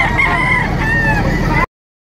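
A white-legged White Kelso rooster of Biboy lines in Lipa, Batangas gives a single loud, close crow lasting under two seconds, with faint background noise before an abrupt cut.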